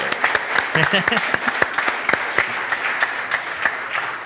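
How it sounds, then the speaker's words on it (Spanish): A church congregation claps in a bilingual service, distinct hand claps forming a moderate round of applause with a speaking voice briefly over the start. "Aplauso bilingüe."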